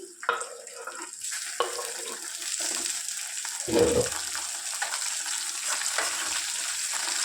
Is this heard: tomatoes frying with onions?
yes